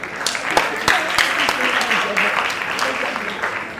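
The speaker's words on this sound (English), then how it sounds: "A round of applause for our director." An audience at a stage play claps for the director, a dense roomy patter with a few sharp nearby claps standing out, while voices murmur and call out over it.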